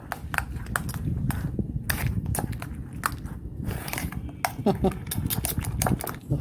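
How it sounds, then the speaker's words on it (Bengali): Two eggs being beaten in a bowl, a quick run of sharp clinks and taps from the whisking utensil against the bowl, repeated irregularly over about six seconds under some background noise. "দুটো ডিম দিয়ে দিয়েছি ডিমটাকে ভালো করে ফেটিয়ে নেব"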